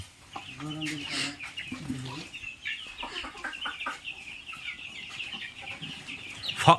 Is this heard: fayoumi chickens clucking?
yes